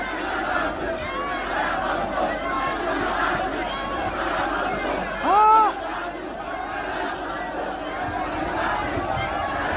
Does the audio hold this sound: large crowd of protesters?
yes